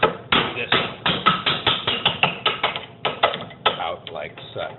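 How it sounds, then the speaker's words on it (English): A hammer striking a steel drift to drive out a tight coupler bushing pin on a Porsche 911 915 transmission, about fifteen sharp metallic blows in a steady rhythm, close up. "I have a drift like this, and hopefully a hammer around here somewhere. All you need to do is set this on that pin like so, and drive this"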